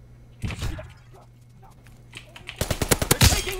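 Rapid gunfire from a multiplayer Domination match in Call of Duty WW2, a short burst early on followed by a louder, fast automatic volley toward the end, loud and close with no talking.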